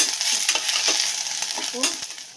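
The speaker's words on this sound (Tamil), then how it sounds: "கொஞ்சமாக இஞ்சி பூண்டு பேஸ்ட் சேர்த்து இதையும் நல்லா வதக்கிப்போம்" Onions and ginger garlic paste sautéing for Kongunadu white mutton biryani, a bright close sizzle with repeated quick scrapes of a spoon against the pan.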